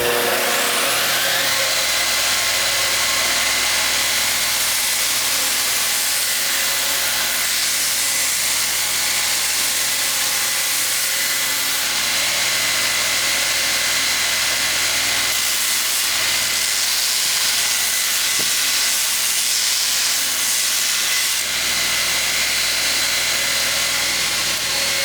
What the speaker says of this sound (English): we'll just use this 60 grit belt, and we'll round this over, and we'll clean this up and bring it to final contour